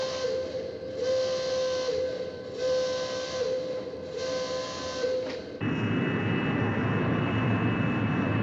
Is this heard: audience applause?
no